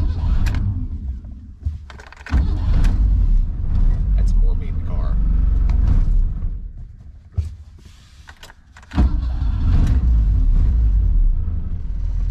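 A Renault R8 with an automatic transmission, sitting in neutral, idles a little fast with a loud, close, low rumble that dips twice before surging back, while someone talks over it.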